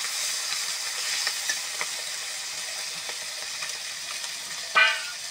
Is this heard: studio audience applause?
no